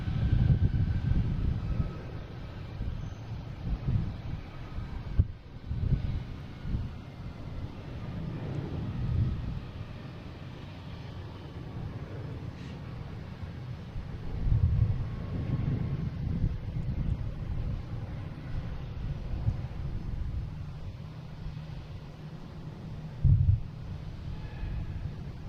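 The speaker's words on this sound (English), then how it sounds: "next taking off is United Airlines, and it's 737 MAX 9 heading to San Francisco" A United Airlines Boeing 737 MAX 9 takes off at Boston Logan International Airport as a distant, steady jet roar that swells and fades, mixed with wind rumble on the microphone.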